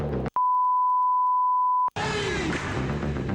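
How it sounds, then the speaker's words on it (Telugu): A censor bleep on a TV show masks dialogue: one steady pure tone of about a second and a half, cutting sharply in and out between bursts of surrounding sound. "ఇదేంటి బీప్ బీప్ డైలాగ్ లాగుంది?"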